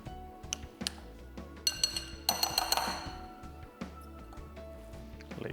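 Dumpling filling being mixed with spices in a bowl, with clinks and taps of a utensil against the bowl, irregular and close, some bright ringing strikes mid-way.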